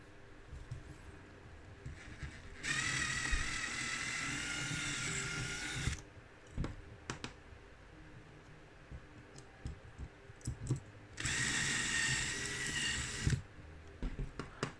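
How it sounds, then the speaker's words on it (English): Two bursts of high-pitched power drilling with a 4mm bit into a Volvo 480ES body, each lasting a few seconds, separated by quieter clicks and handling noises, recorded close up. "I'm just going to reach for my drill and 4mm drill bit"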